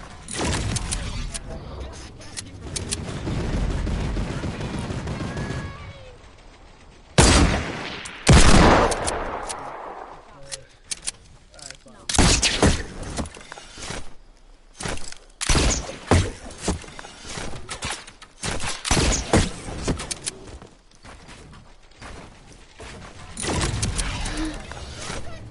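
Video game gunfire aimed at the player: repeated sharp bursts and rattling volleys, some close and loud, mixed with a person talking over the action.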